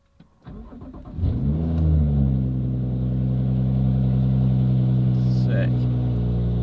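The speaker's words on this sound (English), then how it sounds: "So, I still haven't turned the ignition on, but I guess we can go ahead and do that." A BMW 435i engine cranks briefly after a click of the ignition, catches and rises into a loud, steady idle that holds for several seconds close by, with a faint beep near the end.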